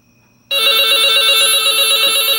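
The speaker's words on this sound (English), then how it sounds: "Very 90s electronic ringer there." A 1990s Radio Shack neon Trimline phone's electronic ringer set to high volume, which bursts in loud and close with a shrill, rapidly warbling trill that holds steady to the end.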